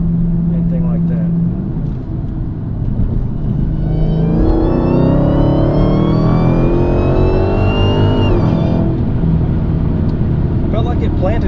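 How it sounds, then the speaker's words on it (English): A Dodge Hellcat accelerates hard, its engine note rising steadily in pitch over several seconds from a low rumble before cutting off, heard close from inside the car. "I'm going to see if I can slow down a little bit and give it some beans."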